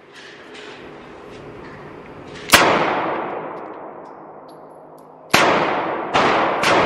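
Pistol shots from a Springfield Hellcat at an outdoor gun range: three sharp, loud reports with long decaying echoes, one alone and then two close together near the end.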